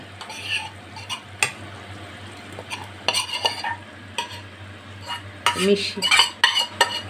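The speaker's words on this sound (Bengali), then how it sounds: "সমস্ত ভালো করে এটাকে মিশিয়ে দইয়ের সাথে ভালো করে মিক্স করব।" A spoon stirring okra with tomato into yogurt in a pan gives intermittent scraping clinks and soft wet churning, close and fairly quiet, with a low steady hum underneath and no talking.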